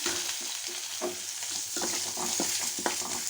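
Curry leaves crackle in hot tempering oil for a cucumber chutney, a close, continuous sizzle broken by stirring knocks and small spitting pops.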